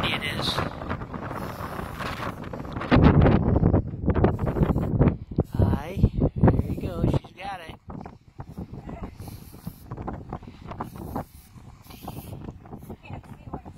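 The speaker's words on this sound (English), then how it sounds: "I can't believe how windy it is." Strong wind gusting across an open roadside site at Cadillac Ranch on Route 66, buffeting the microphone in loud bursts while people talk close by.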